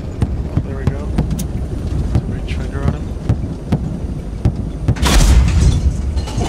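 A long-range rifle shot in Squad brings down an enemy helicopter. Sharp cracks punctuate the wind-buffeted battlefield, then a loud, broad boom hits near the end, with someone talking throughout.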